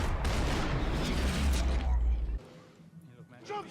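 Gunfire from the video game Max Payne 3: a loud burst of booming shots for about two seconds, then quieter game sounds and a brief voice near the end.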